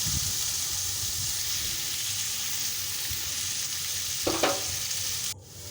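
Potato pieces tossed with salt and turmeric fry in hot oil, giving a steady, close, continuous sizzle that holds for several seconds, with a brief clatter near the end before it quiets.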